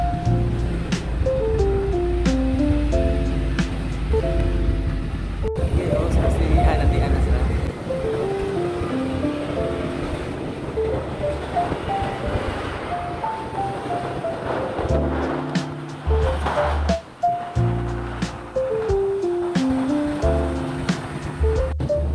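Steady rushing roar of Can Umantad Falls in Candijay, Bohol, Philippines fills the whole stretch as a constant wash of water noise, with people talking over it.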